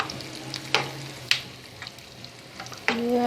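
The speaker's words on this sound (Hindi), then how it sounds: "अब हम अपने 4 मगज़ डाल रहे हैं। अब हम इसको करेंगे फ्राई।" A four-seed mix (magaz) fries in a pan with a steady soft sizzle, broken by a few sharp clacks and scrapes of a stirring spoon.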